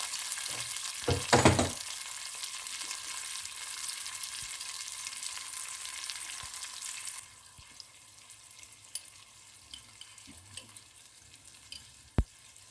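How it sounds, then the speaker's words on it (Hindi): Spices being added to a hot frying pan with a little water for an aloo keema dish give off a steady hissing sizzle, a loud burst early that settles into quieter crackling with occasional stirring clinks. "अब बारी बारी में सब मसाले और सब डाल रही हूँ।"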